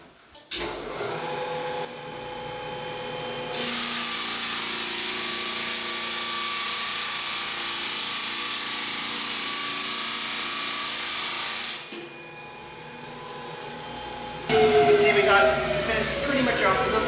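A rented drum floor sander with 36-grit paper grinds old varnish off a bedroom wood floor. After a start-up it settles into a loud, steady whir for several seconds, then winds down, and a clattering restart follows near the end.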